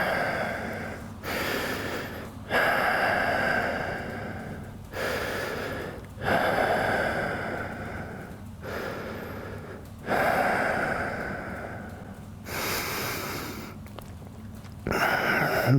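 Deep, heavy breathing comes through during a yoga session for BJJ. Each long inhale and exhale is close and clearly audible, in a steady rhythm of about six breath cycles with no talking.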